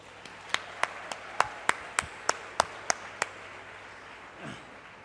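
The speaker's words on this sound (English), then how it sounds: "You can clap for yourselves." Graduates at a St. Xavier's College graduation ceremony clap in a sparse, slow rhythm, about ten distinct separate claps spaced evenly, moderately close against a quiet room, fading to stillness.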